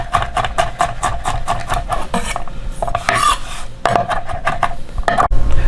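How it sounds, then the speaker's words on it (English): Knife chopping crushed garlic cloves on a board, a steady run of fast sharp taps and scraping strokes, close and fairly loud, with no talk. "same thing, just start chopping."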